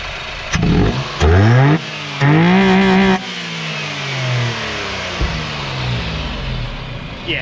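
A Honda Life's engine is blipped in three sharp, loud revs close by, induction roar rising and falling with each, before settling back to a low idle.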